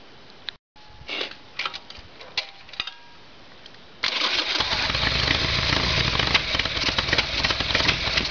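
A Harley-Davidson Sportster Evolution motorcycle with a carburetor fuel problem is started up: a few seconds of clicks and cranking attempts, then the engine catches and roars into a loud, steady rumbling idle close by.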